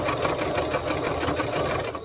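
Sewing machine stitching fabric for a sleeve seam: a fast, even, rhythmic mechanical whirring and clacking, close and moderately loud, running steadily without pause.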